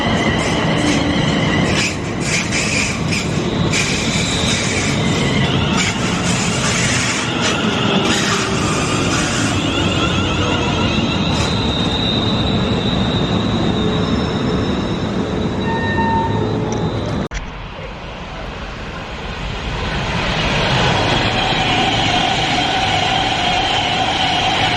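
A twelve-carriage passenger train running on rails near Milton Keynes Central, with a loud, steady rumble of wheels, rhythmic clicks and a high squeal. The roar briefly drops then builds again, and there is no speech.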